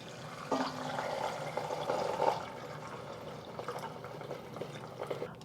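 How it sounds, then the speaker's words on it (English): Four cups of water pour into a soup pot holding coriander and a cinnamon stick, a soft, steady splashing stream that fades into quiet kitchen background. "Adding 4 cups of water."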